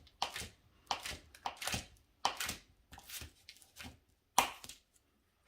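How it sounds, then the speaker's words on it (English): A knife chopping a stick of butter into smaller chunks on a board for a dessert recipe, heard as about eight crisp, close cuts in an uneven rhythm with quiet pauses between them. "we're gonna cut our stick of butter into smaller chunks"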